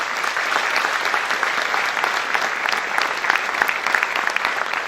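Sustained loud applause from an audience honouring award winners at a formal Kranj city municipal ceremony, steady dense clapping throughout with no let-up.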